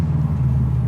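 A Subaru WRX STi bug-eye with its EJ207 engine running warm, giving a short, steady, close-up low rumble at idle.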